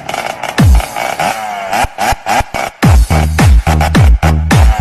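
A motorcycle engine revs in a quick series of loud, choppy bursts, each throttle blip rising and then dropping away, close and unaccompanied by speech.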